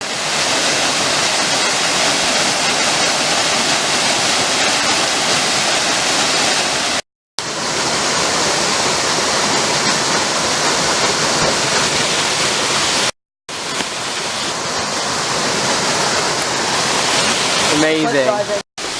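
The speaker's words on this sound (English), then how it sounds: "So we've arrived at a waterfall." Waterfall roaring as a loud, steady wash of broadband noise, continuous close by with brief cuts, and a voice speaking near the end.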